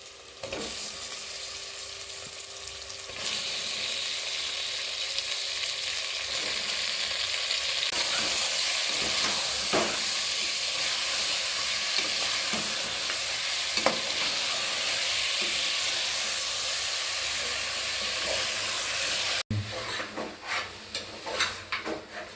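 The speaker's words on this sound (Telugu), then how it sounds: "ఇప్పుడు ఇందులో మటన్ వేసుకోవాలి." Mutton fries in a pan for a curry, with a loud, continuous sizzle and spatula scraping and stirring throughout, then a sudden shift to choppier frying noises near the end.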